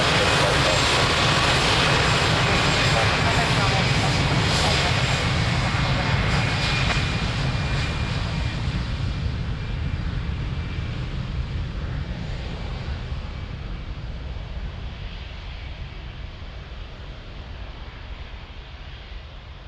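An Airbus jet roars through its takeoff run at Lisbon Airport, a loud broad engine rumble that slowly fades as it climbs away.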